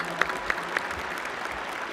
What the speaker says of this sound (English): Let's have a round of applause for all the volunteers and helpers.